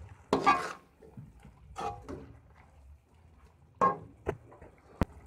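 Intermittent scraping and clinks as chicken spaghetti with shredded cabbage and green chilli is tossed in a pan, a few close stirring strokes separated by quiet gaps, ending in a sharp utensil knock.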